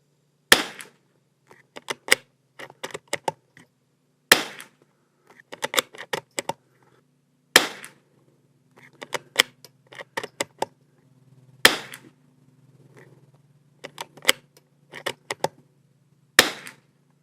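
A Christensen Arms Ranger 22 rifle fitted with a barrel tuner fires .22LR rounds outdoors at a range. The shots are sharp, loud and single, spaced a few seconds apart, with softer mechanical clicks and handling noise between them.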